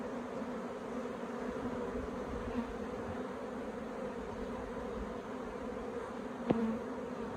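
Honey bees hum steadily inside a queenless, stressed hive with low bee numbers, a low continuous drone with one short sharp knock near the end.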